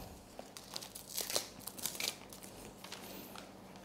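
Plastic packaging around the output hose of a Yasuka HPW 650 Jet pressure washer is torn and crumpled open, giving quiet, irregular crinkles and rips close by, busiest in the middle.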